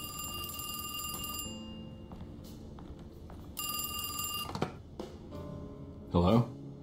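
A telephone rings in two long electronic trills with a pause between them inside the horror game Alone in the Dark, over a quiet ambient background and a few faint thuds.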